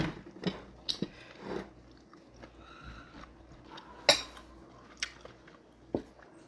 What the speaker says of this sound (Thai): ช้เวลาเคี้ยวนานหน่อย